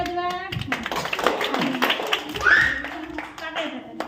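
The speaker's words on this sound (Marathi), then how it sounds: "तुम्ही पण टाळ्या वाजवा" An audience at a school parent-student gathering claps, scattered clapping and taps mixed under lively talk and children's voices, with a brief louder swell partway through.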